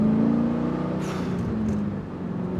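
Cadillac CTS-V sports sedan engine heard from inside while driving, a steady deep drone with a slight rise in pitch, loud and close, with a brief whoosh partway through.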